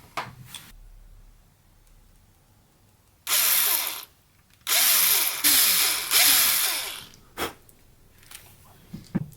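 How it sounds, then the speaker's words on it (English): A small hand drill whirs in several short bursts, drilling a couple of millimeters into a resin eye, each rising to a high, grinding whine and then stopping, with quiet pauses between. "I'm going to drill a little bit of the pupil out with my hand drill"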